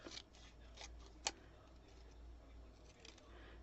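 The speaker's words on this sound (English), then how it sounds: "So I'm just going to cut this in half." Scissors slice a piece of card paper in half with a few quiet, close snips and a sharper click partway through, set against a soft room hiss.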